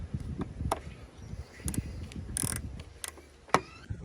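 A 10 mm socket wrench ratchets on the battery terminal of a Lexus LX, giving soft clicks and short mechanical bursts, quiet and close.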